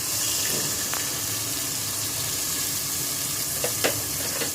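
Spice masala sizzles in oil in a pan as sour yogurt is added for chicken tikka biryani, a steady close frying hiss with a few soft scraping stirs and brief clinks.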